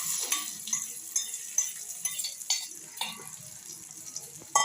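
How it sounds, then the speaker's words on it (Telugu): Hot fried tempering is scraped from a pan into a stone mortar for ridge gourd peel chutney, giving a series of light metallic taps and scrapes with faint sizzling in a quiet kitchen. "ఇంకా ఈ తాలింపు తీసేసుకొని రోట్లో వేసేస్తాను."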